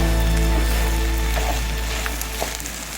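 Corned beef stir-frying in a pan over low heat gives a steady, dense sizzle throughout, with a few soft pops and crackles as liquid meets the hot pan, easing slightly toward the end.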